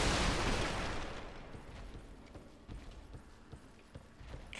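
Heavy footsteps sound in the distance in a Dark Souls 3 game scene. A loud, broadband crash fades out in the first second, then dull, irregular thuds and scuffs repeat at a distance over low ambience.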